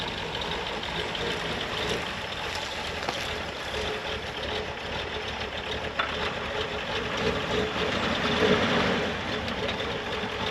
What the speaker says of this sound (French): Théo il a commencé à caler